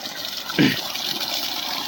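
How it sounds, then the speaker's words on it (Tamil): Water pours and gushes steadily in the background, with one short louder splash near the start. "பயங்கரமாக தண்ணி ஊற்றிட்டுருக்குது"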